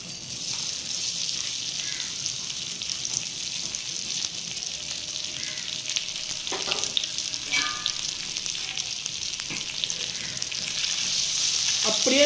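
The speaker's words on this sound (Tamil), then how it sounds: "அப்படியே இந்த நெய்யில நல்லா பொறுமையா ரோஸ்ட் பண்ணுங்க" Chopped jackfruit roasts in ghee with a continuous soft sizzle, and a few faint scraping stirs rise above the steady crackle.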